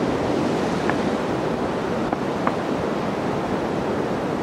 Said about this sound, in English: Big waves rolling in.